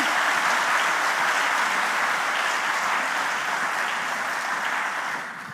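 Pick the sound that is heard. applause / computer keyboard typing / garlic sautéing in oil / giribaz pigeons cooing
applause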